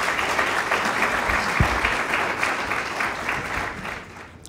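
A crowd at a school digital initiative launch ceremony in Cocody, Côte d'Ivoire applauds steadily, a dense sustained clapping that fills the hall and fades slightly toward the end.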